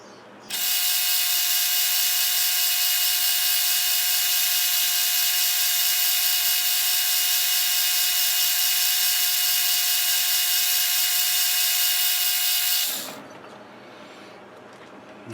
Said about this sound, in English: I find this stuff tends to grab quite a bit when drilling